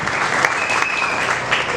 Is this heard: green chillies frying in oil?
no